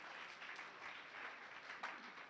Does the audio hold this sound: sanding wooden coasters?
no